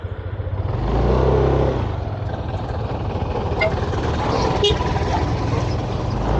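A truck passes on a steep mountain road in Benguet, its engine building to a loud, low rumble that swells and lingers, with people talking briefly in the background.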